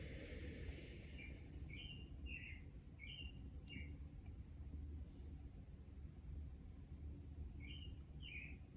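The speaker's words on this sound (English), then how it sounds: "You guys hear the bird?" Faint, short bird chirps repeating at intervals over steady low rumbling background noise, sounding some distance away.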